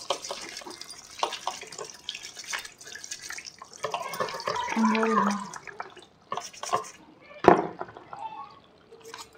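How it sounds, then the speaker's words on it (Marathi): Crabs being washed by hand under running water in a kitchen, with intermittent splashing, trickling and dripping, one sharper splash near the end, and a voice talking faintly in the background. "तीन चार पाण्याने चांगले धुवून घ्यायचे एकाच पाण्याने भरपूर पाणी घेऊन धुवायचे"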